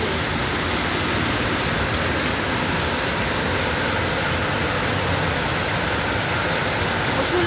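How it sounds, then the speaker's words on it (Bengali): Torrential rain pours onto a flooded field in a loud, unbroken hiss of dense downpour, steady throughout with no pauses. "মুষলধারা বৃষ্টি চলছে"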